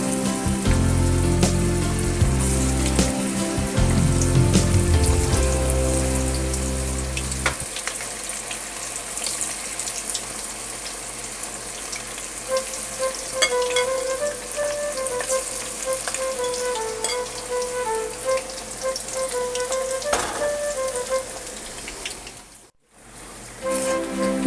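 Batter-coated cauliflower pieces for Gobi 65 crackle and bubble in very hot oil as a batch is dropped in, a loud, dense, continuous sizzle close by with occasional clinks, no talking.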